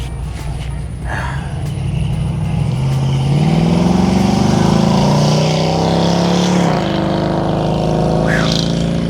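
A 1973 Dodge Challenger Rally 340 small-block V8 idling and then revving, with a deep steady rumble that rises and falls in pitch, loud and close, with faint talk in the background.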